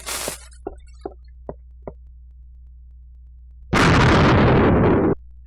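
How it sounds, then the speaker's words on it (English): A small explosion in the video game World of Archespore blows up a patch of dirt, arriving as a loud broad burst of about a second and a half after several faint ticking pops, with no talk over it. "Since there's dirt there, it's probably going to make a much bigger explosion than I'd like."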